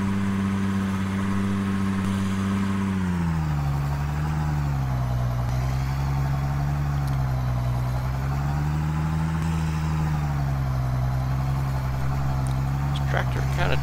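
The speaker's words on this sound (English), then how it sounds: "I currently got our county tractor working on the chopper" A tractor engine in Farming Simulator 2013 working a corn chopper, a steady low droning hum with slowly wavering pitch, continuous throughout, with someone talking over it.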